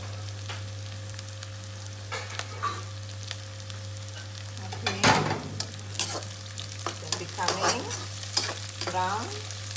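Onions browning in a pan for mutton liver masala, a gentle crackling sizzle with scattered spatula scrapes and a few louder stirring clatters over a low steady hum, heard close with no talking.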